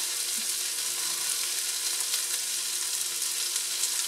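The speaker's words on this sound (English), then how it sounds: "aromatics are nice and sauteed" Aromatics for chili con carne sauté in a pan with a continuous, even hiss and crackle of sizzling, moderately close and alone, without any voices.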